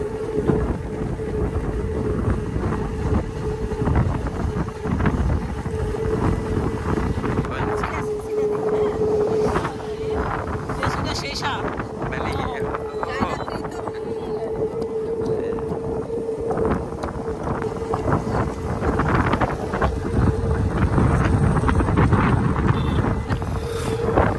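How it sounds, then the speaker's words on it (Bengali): Strong wind buffets the microphone in a constant rumbling roar, over a steady engine hum and faint voices. "আজকে প্রচুর বাতাস, খুব ভালো লাগতেছে"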